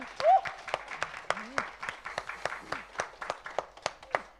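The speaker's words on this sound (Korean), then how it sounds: "하나님께 영광의 박수 한번더 올려드릴까요?" A church congregation at an Easter Sunday service claps together in a steady, rhythmic beat, with distinct claps falling evenly about four per second, and a brief voice heard near the start.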